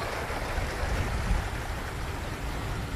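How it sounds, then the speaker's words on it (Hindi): Water in a city-centre fountain or waterfall in Düsseldorf, Germany, rushing and splashing as a steady broadband wash, close and continuous, with no voices. "और देखिए वाटरफॉल हो रहा है सामने"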